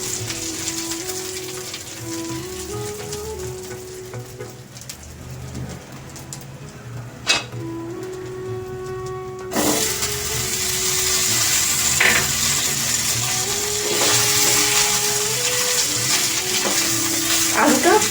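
Potatoes hit hot oil seasoned with torn bay leaf and whole dried red chillies, and a loud steady sizzle like rain rises partway through and keeps going, with faint birdsong somewhere in the background.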